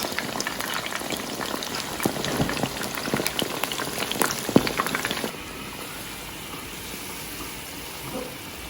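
Chicken pieces for Chicken Manchurian fry in hot oil at medium-high heat, a dense close crackling sizzle with sharp pops, settling into a quieter, even hiss partway through.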